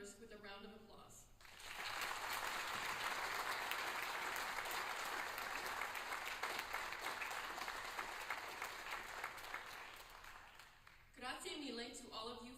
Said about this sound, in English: would you join me in honoring the new members with a round of applause?